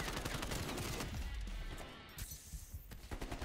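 Rapid bursts of DMR rifle gunfire in the Call of Duty Cold War Search and Destroy mode, loud and dense at the start, then thinning into scattered sharp shots and impacts toward the end.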